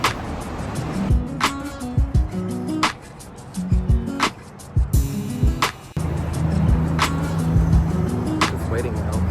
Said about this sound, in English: So I'm literally just crossing the street.